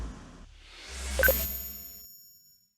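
A notification bell sound effect rings once with a bright metallic ding over a swelling whoosh, then fades out to silence.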